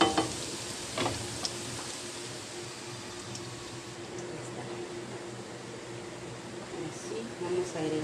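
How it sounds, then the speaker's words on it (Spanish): Onions sizzle steadily in a frying pan while pork tacos are being made, a continuous close hiss with occasional stirring clicks and a low kitchen hum. "Ahí está mi sartén con cebollita."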